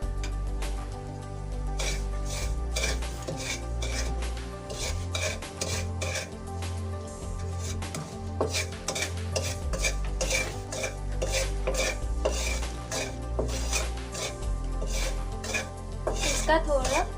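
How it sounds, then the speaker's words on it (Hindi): Semolina being dry-roasted in a pan with a spoon, a steady clatter of metal scraping and tapping against cookware, close and continuous, with no talking. "पहले हम सूजी भून के निकाल लेंगे।"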